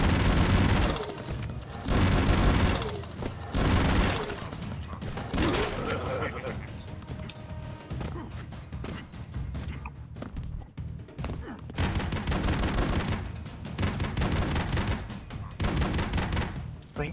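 Gunfire and explosions in the side-scrolling action game Broforce: dense, rapid bursts of shots and booming blasts in a loud continuous barrage with frequent thumps, with a person talking over it.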